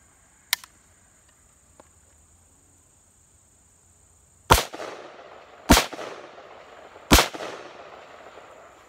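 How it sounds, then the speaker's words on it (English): Three loud, sharp AK rifle shots ring out about a second apart, each followed by a short echoing decay, after quieter clicks of handling gear and an open-top magazine pouch on a chest rig. "We'll fire a few shots"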